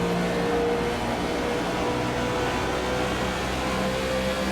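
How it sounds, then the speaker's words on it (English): Onboard roar of a stock car sliding loose in iRacing at Texas, its wheels losing grip under a steady, loud engine drone with sustained tonal whine, continuous and close for the whole stretch, no voices. "You can hear the wheels go."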